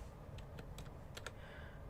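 Quiet keystrokes on a computer keyboard, a handful of light separate clicks in an uneven burst over a low background rumble, fairly near but faint.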